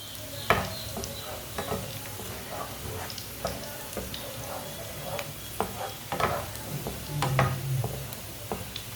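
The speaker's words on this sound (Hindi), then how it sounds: "इसे भी ना थोड़ा सा ब्राउन कर लेंगे, पका लेंगे थोड़ा सा मिर्ची को भी" Red chilies sizzle and crackle in hot oil for a masoor dal tempering, with a steady frying hiss and occasional stirring scrapes and pops, close up.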